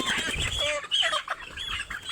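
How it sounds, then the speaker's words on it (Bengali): Chickens cluck and squawk in agitated bursts while being caught on a poultry farm, several birds close by and fairly faint overall. "দেখেন আমাদের মুরগি ধরে কাজ চলছে"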